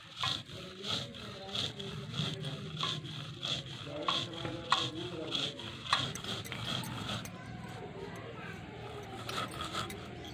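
Kokaveli lotus seeds are ground gently by hand, giving a soft, steady rasping and rubbing with a regular back-and-forth rhythm, close and quiet, loosening into irregular scraping toward the end.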